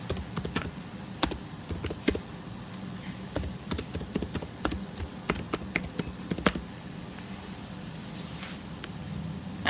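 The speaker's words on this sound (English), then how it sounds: "You have to put your username and password." Computer keyboard keys clatter in an irregular run of quick taps while a username and password are typed in, with steady close clicking and no talk.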